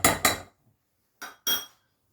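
A spoon knocks and scrapes in a bowl while roasted semolina is mixed into batter for besan ki tukriya, sounding as two pairs of sharp, close clinks separated by a short silence, with no talk.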